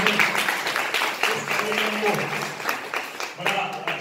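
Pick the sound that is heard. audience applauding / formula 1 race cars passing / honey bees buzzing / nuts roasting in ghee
audience applauding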